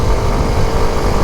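A Kawasaki Ninja 125 motorcycle under way, its small engine producing a dense, steady roar mixed with wind rush, heard close and loud throughout.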